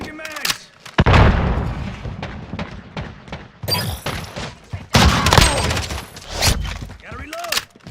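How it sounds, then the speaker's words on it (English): Gunfire and a grenade blast in a combat video game come as sharp cracks and a booming burst amid rapid shots and clatter, with voices calling out over the action. "Throwing grenade!"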